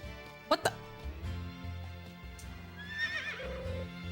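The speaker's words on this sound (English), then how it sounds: "Is that the noise that horses make?" A horse in the video game Innocent Life: A Futuristic Harvest Moon gives a wavering whinny alongside a few sharp knocks and background game music, moderately loud.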